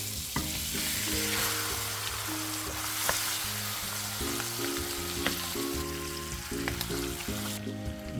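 Pieces of chicken go into hot curried oil in a pot and sizzle loudly and continuously, with crackles and background clatter and no talking.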